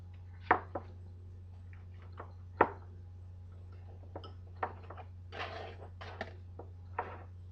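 Knife chopping vegetables on a board for a seafood salad, sparse irregular sharp taps, a few stronger thuds among lighter clicks, close and fairly quiet over a low steady hum.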